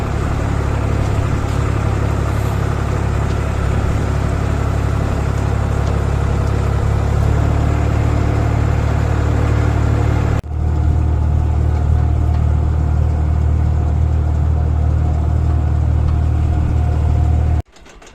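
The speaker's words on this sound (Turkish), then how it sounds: "Traktörle gidiyoruz." A tractor engine droning at a steady, loud pace while driving to a walnut orchard, with a low constant rumble that shifts slightly midway before cutting off near the end.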